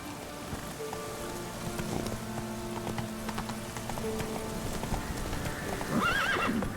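Roach the horse in The Witcher video game clip-clops steadily over soft ground under a gentle patter of rain, then gives a clear whinny toward the end, moderately close.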